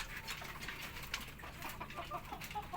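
Chickens in a backyard coop cluck and coo continuously, soft and somewhat distant, over a steady rustling background with no talk.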